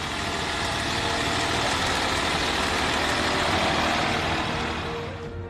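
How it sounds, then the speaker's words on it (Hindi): A tractor engine runs steadily at a wheat farming event in Faisalabad, a continuous loud, dense rumble with even drone that holds throughout and eases slightly at the end, no speech. "ट्रैक्टर चलाती।"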